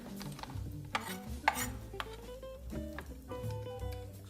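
Chopped parsley is stirred into butter, giving soft, uneven scraping and tapping of a utensil against a bowl or pan. The sounds are close and quiet, with a few sharper knocks and a low background hum.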